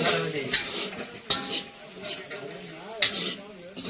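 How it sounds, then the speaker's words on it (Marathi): Paneer fries and gets stirred in a pan at a village cooking party in Konkan, with a steady sizzling hiss and a few sharp scrapes of the spoon against the pan. Muffled voices can be heard in the background. "पनीर चांगलं फटावून दे जरा लाल"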